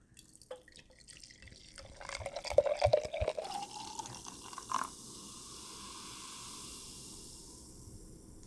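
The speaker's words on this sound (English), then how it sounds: "I think it's time to pour some in." Homemade lemongrass ginger ale pours and trickles into a container for a few seconds, with fizzy hissing and a few drips, fairly quiet and close.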